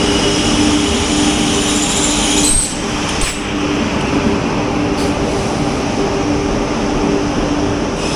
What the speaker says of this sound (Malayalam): തിരുവനന്തപുരം നോർത്ത് യശ്വന്ത്പൂർ ഗരീബ് രഥ് എക്സ്പ്രസ് ഇതാ കയറി വരുന്നു.